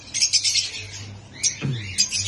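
Small pet birds in a mini aviary, including yellow-faced birds, chirp and squawk in short bright bursts, with one lower downward-sweeping call in the middle.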